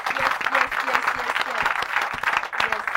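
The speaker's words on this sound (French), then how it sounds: "On l'applaudit fort encore une fois." Church congregation applauding after a sermon, steady loud clapping from many hands with some voices mixed in, close and continuous.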